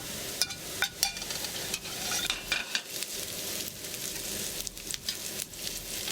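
Lemongrass and chili being stir-fried in a wok over medium-high heat, a steady sizzle broken by repeated sharp scrapes and knocks of the spatula against the metal, close and continuous with no voices.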